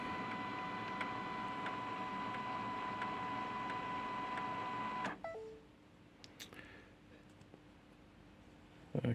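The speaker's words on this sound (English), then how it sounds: "The machine then should start lifting the paper tray." An HP LaserJet MFP M283fdw printer lifts its paper tray with a steady mechanical whir and hum for about five seconds. The motor then cuts out, followed by a few soft clicks and a final clunk.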